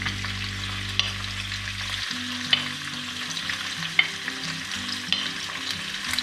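Anchovy fillets sizzling as they brown in a pan for Sicilian pasta c'anciova, a steady, close frying hiss with occasional soft pops and stirring clicks.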